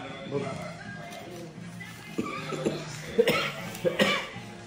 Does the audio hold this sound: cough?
yes